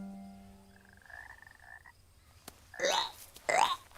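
Toad croaking in a cartoon, a faint tonal note followed by two louder raspy croaks near the end, alone without talk.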